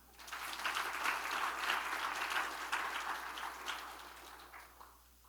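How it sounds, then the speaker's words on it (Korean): A church congregation at an evening revival service claps together in a sustained, fairly soft wash of applause that swells, holds, and then fades away toward the end. "박수 한번 쳐줘요."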